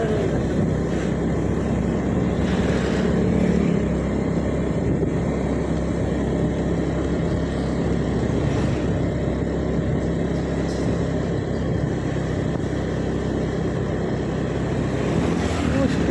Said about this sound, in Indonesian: Banyak motor.